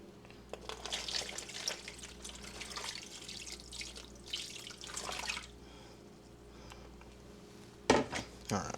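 Beer marinade pours and splashes softly in bursts over a ribeye roast, with light clinks of a dish and a brief louder clatter near the end.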